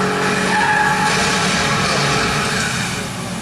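Car tires skid across pavement in a sustained, loud screech that holds steady for several seconds before easing slightly, heard alone without voices.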